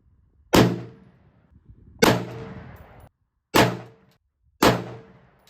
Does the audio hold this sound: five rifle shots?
yes